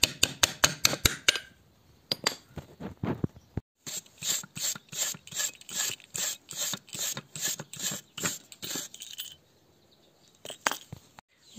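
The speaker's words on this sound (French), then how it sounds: "Donc là, je l'ai bien gratté et ça se remet là." Scraping at an old rusted padlock with a metal tool: a rapid train of sharp rasping strokes, then a steady series of rhythmic scrapes close up and loud, with short pauses between bursts and no talking.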